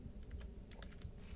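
Quick, faint keystrokes clatter on a computer keyboard, a brief run of soft taps over a low background hum.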